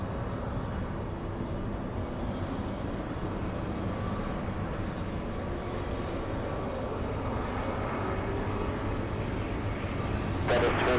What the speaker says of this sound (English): This is American Airlines. American flying in from Boston. American 2455. That's an A321.